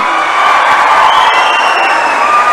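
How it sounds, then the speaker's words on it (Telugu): A crowd at a government appointment-letter handover ceremony claps and cheers in a loud, sustained roar of applause that runs without a break. "ఇవాళ మీరు కొడుతున్న చప్పట్ల వెనుక మీ సంతోషం మీ కుటుంబ సభ్యుల యొక్క ఆనందం"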